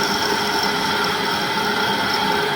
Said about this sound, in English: So here we are using as a 8 mm drill bit, making a 8 mm hole, applying a coolant.